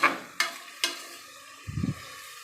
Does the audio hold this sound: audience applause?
no